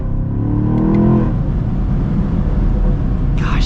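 A 2024 Chevy Camaro SS engine revs on the throttle, a loud close surge that swells then settles into a steady rumble, with a faint higher whine near the end.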